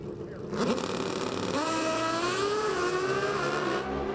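Drag racing motorcycles scream down a quarter-mile strip, a loud engine whine climbing and shifting in pitch as the bikes charge away, with track ambience and a commentator's voice mixed underneath.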